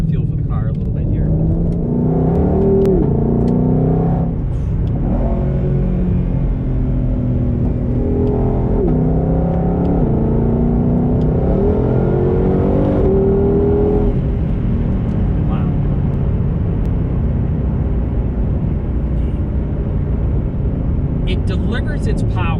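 2020 Ford Mustang Shelby GT500 accelerating hard from inside the cabin, engine pitch climbing and dropping through several quick paddle shifts, a loud steady rumble throughout with a voice talking over it.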